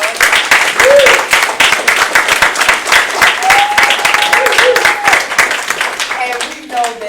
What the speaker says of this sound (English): Let's give them their last round of applause.